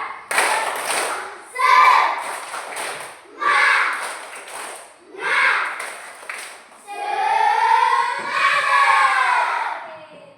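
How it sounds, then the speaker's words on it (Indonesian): A classroom of standing pupils doing a rhythmic spirit clap, bursts of unison hand claps in short patterned groups separated by pauses, followed by children chanting together loudly. "Tepuk semangat lagi dulu"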